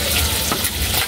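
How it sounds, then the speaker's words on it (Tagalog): Hot cooking oil spattering and crackling steadily while food fries in a pan, a dense continuous sizzle close by with no voices. "Kasi yung talsik na mantika po ba, pasensya na po kayo ha."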